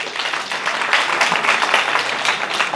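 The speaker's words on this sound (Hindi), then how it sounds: "डॉक्टर माधवी के लिए जोरदार ताली बजाओ" An audience at a climate change talk claps for Dr. Madhavi, a short burst of steady, moderately loud applause filling the room.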